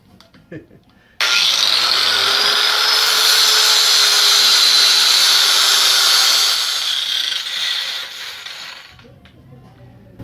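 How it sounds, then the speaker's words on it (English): A power grinder worked on a transmission carrier bearing during removal runs loud and steady for about eight seconds, a sustained whine that starts abruptly and tapers off near the end. "So I'm using my grinder with that."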